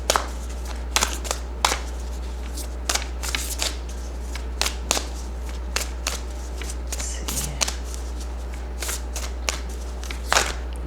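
Oracle card decks, including a Moonology oracle deck, being shuffled by hand at close range during a full moon tarot-style reading: repeated crisp riffling bursts and soft card slaps come in irregular spurts over a steady low hum, with no talking.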